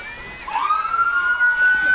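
A Kingston police car's siren sounds during a Christmas parade, rising into a sustained wail and holding loud and near over a low background of crowd noise.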